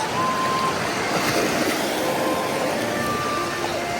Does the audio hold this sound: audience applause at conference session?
no